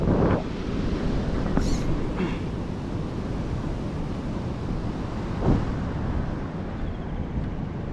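Rough sea surges and strong wind sweep across open water on a fishing outing, a loud, steady roar with gusting wind buffeting the microphone throughout and no one speaking.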